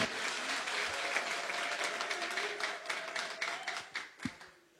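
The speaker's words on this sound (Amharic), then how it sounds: "ለጌታ ክብር አጨብጭቡ" A church congregation claps at a prophetic service, a brisk patter of many hands that grows sparser and fades toward the end, with a few sharp claps and faint voices underneath.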